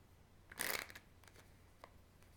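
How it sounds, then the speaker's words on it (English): A quick riffle of shuffled tarot cards, soft and close, followed by a few faint taps and shuffles in a quiet room. "I keep trying to shuffle my cards backwards or something"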